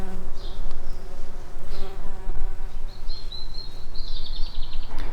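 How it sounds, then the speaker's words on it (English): A honeybee buzzes steadily and close among garden flowers in an English garden in June, a continuous droning hum with a few brief chirps from birds in the background. "Can you see the pollen on the legs of this honeybee?"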